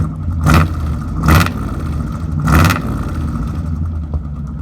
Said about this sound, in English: you can hear what his dual exhaust sounded like